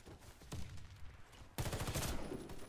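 Automatic gunfire in Warface from a Daewoo K1 rifle, sprayed at an enemy: a short burst near 0.5 s, then a loud sustained volley from about 1.6 s to the end, dense and close.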